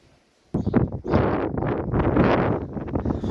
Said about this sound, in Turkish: Bulunduğum yer çok güneşli ve rüzgarlı